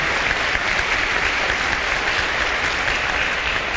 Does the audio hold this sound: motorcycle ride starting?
no